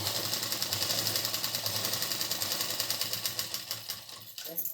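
A sewing machine runs a long two-inch stitch along a petticoat hem, a steady rapid mechanical whirr with fine periodic ticking, close and loud, easing off briefly near the end.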